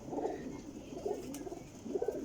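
A Sialkoti female pigeon coos in three low, rolling bursts at a steady pace, close and clear against faint background hiss.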